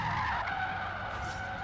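Tire squeal from a Chevrolet Bel Air drifting sideways in Forza Horizon 3, a continuous loud skid layered over engine hum that eases slightly toward the end.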